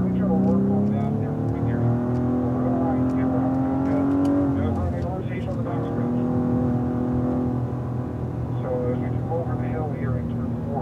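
A Cadillac ATS-V race car engine drones steadily on a track in third gear, loud and continuous with shifting pitch and some rising revs, while a voice talks over it.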